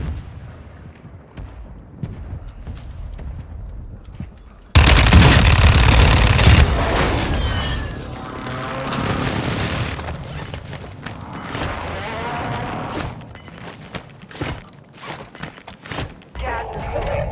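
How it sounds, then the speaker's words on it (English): Airstrike explosions in a battle royale video game: a sudden loud blast bursts in partway through, followed by rumbling booms and debris that fade, with scattered crackling shots and game voices over the top. "Hostile airstrike near your location."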